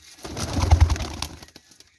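Flying pigeons kept as a hobby coo in a low throaty burst, close and clear for about a second, with a few faint rustles around it.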